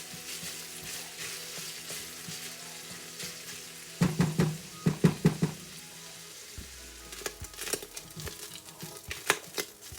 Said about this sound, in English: I like to cook the beef down until all of the moisture has evaporated out of the beef.